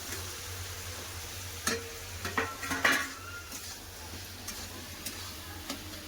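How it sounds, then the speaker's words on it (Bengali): Fried potatoes and pointed gourd tipped into a simmering fish curry and stirred in a pan, giving a few sharp metallic clinks and scrapes of a utensil over a faint steady sizzle. "ভেজে রাখা আলু পটল দিয়ে দেবো"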